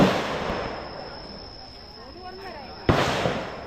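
Gunfire at the Cu Chi tunnels shooting range in Vietnam sounds as sharp distant cracks, one strong report near the end, with insects buzzing and a voice talking over the scene.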